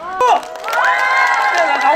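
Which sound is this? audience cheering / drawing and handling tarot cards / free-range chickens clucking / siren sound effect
audience cheering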